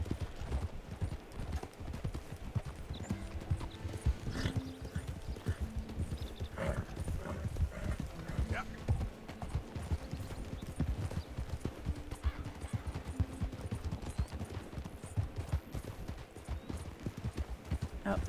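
A horse in Red Dead Redemption 2 clip-clops at a steady walking rhythm throughout, the hoofbeats fairly quiet and continuous, with no one talking.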